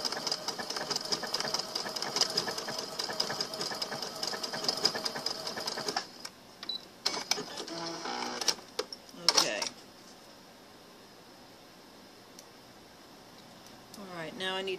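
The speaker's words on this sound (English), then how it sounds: "I'm going to overlock my trim because it frays really bad." An overlocker sewing machine stitching along fabric trim runs in a fast, dense whir for about six seconds, then stops and restarts in short bursts before falling quiet.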